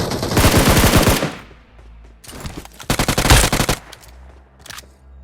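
Loud bursts of rapid automatic gunfire in the video game BGMI (PUBG Mobile) in quick volleys, separated by brief pauses, with sharp cracks and echoing tails.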